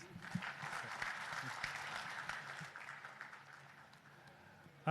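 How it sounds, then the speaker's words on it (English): Sustained applause from a crowd at the inauguration ceremony of a smart port in Liloan, Cebu, steady clapping filling the whole stretch at moderate distance, with a faint voice over a public address at the start. "A big round of applause, please."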